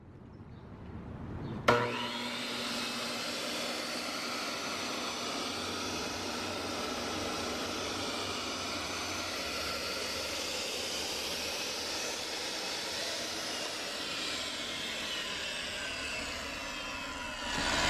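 A BEAST 10-inch wet tile saw with a water pump switches on with a sharp start, then runs with a steady, even whine and hum that holds constant at close range, with no voices.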